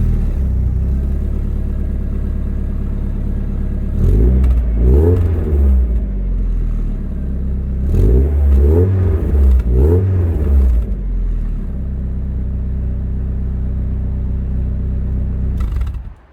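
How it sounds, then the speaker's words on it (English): A Mazda MX5 with its stock exhaust idles with a deep rumble, then revs hard in two bursts of repeated throttle blips before settling back to a low idle. "Right now it's got a boiler exhaust system on and it sounds like this."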